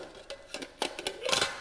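Metal pan supports of a Trangia spirit cooker set being shifted, giving several light clinks and scrapes in an irregular sequence, close and fairly quiet.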